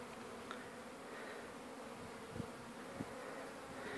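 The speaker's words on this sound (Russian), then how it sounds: "Не спеша, не массово, потихоньку пчела выходит на облет." Honeybees leave the hive on their first flight of spring, on the first warm day in March, a faint, steady buzzing hum throughout with a few soft knocks and no voices.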